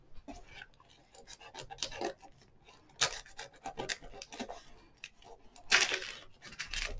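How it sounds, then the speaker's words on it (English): A sharp knife trims dry tissue paper stretched over a willow animal sculpture, giving soft scratchy rasps and tearing scrapes in short irregular bursts, close up, with no talk. "now that it's dry, I can take a sharp knife and just carefully"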